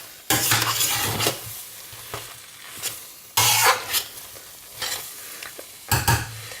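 Thick, stiff coconut curd soap is stirred in a pot in three scraping, sloshing bursts separated by quieter pauses, close and fairly loud.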